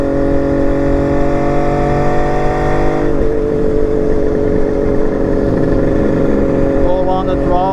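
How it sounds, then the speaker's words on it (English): A carbureted motorcycle engine holds a steady cruise at about 2800 RPM on the road, running smooth and even, a continuous loud drone with a slight shift in tone partway through. "Cruising down the road, about 2800 RPM. Bike's carbureting great."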